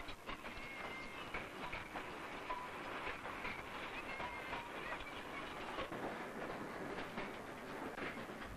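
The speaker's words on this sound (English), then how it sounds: "Sharp curves and steep gradients make the locomotives work really hard" A preserved narrow-gauge railway locomotive working hard on the Leighton Buzzard line, a former sand quarry line with sharp curves and steep gradients, gives a faint, steady rumble with rattling wagons heard from a distance.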